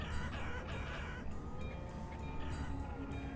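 Chickens clucking in the village-building game Banished, a steady dense wash of fowl clucks and game ambience that runs without a break, with no talk.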